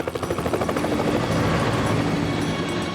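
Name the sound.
helicopter flying while carrying a suspended load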